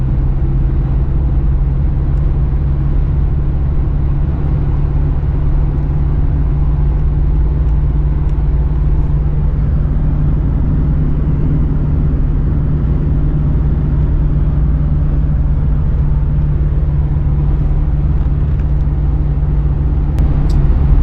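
Car driving along snowy roads in Ukraine on the way from the Romanian border to Kyiv in December, a steady low engine and road rumble with tyre noise that holds level and close throughout, no talking.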